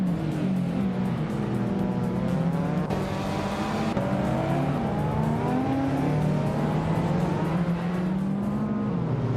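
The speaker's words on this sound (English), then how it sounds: "Blanky Frankie is driving a 1996 Mazda Miata" Race cars, among them a 1996 Mazda Miata and an Opel Ascona, roar steadily with engines revving and shifting pitch, a continuous loud motor drone with faint tire noise throughout.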